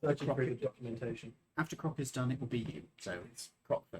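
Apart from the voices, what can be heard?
None of the usual background noises is heard.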